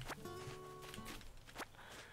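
Footsteps of a character walking in Animal Crossing: New Horizons, a few quick soft steps near the start and another around one and a half seconds, set against the game's background music.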